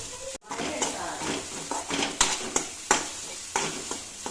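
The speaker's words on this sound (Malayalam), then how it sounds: "ഒരു മൂടി തേങ്ങ ചിരവിയതാണ് അത് ഇതിലേക്ക് ഇട്ട് കൊടുത്തിട്ട് നല്ല റെഡിഷ് കളർ ആവുന്നത് വരെ നന്നായിട്ട് വഴറ്റിയെടുക്കണം" Grated coconut sautéing in oil with fennel and shallots for a Kerala chickpea curry, giving a steady close sizzle broken by repeated scraping stirs and sharp spoon knocks against the pan.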